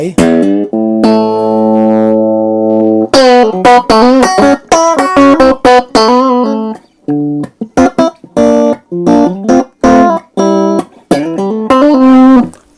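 Clean, bright electric guitar played through a Fender Japan tube amp at low master volume: a sustained chord ringing out, then a run of quick picked notes and chords, loud and close.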